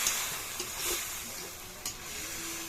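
Bohar bhaji leaves stirred in a hot tempering, giving a steady close sizzle and frying hiss with a few soft stirring scrapes, no talk.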